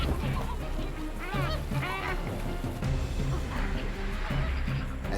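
Water birds panic as a baboon charges toward them at the water's edge, letting out a burst of honking and quacking calls mixed with splashing and rustling commotion, fairly close.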